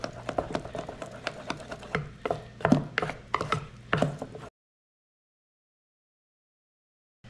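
A pepper mill grinds white pepper into creamy bacon potato puree with a run of rapid ratcheting clicks, close and fairly quiet, stopping abruptly into silence.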